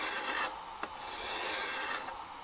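A Stanley 4 Square 1105 plane iron is sharpened on a finer sharpening stone, a close, soft gritty rasping in repeated back-and-forth strokes with no talking.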